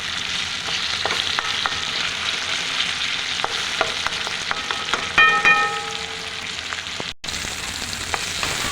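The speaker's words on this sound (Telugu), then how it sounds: "ఇవి బాగా నూనెలో వేయించుకున్నాను." Onions and tomatoes frying in oil in a pan, a steady close sizzle with occasional stirring clicks and scrapes, no talking.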